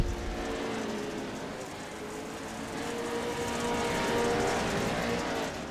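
Off-road racing truck engines roar continuously at a distance, a dense wash of engine noise that swells slightly as the trucks pass.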